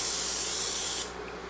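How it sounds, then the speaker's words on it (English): A single close spray bottle sprays olive oil onto a grill, hissing steadily for about a second, then stops, leaving a faint background hum. "I'm going to spray down that grill with some olive oil."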